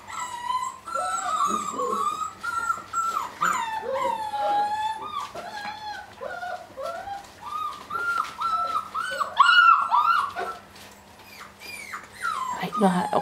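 Seven-week-old flatdoodle puppies whimper close by, a continuous string of high-pitched whines, yips and little howls that rise and fall, with a short lull near the end.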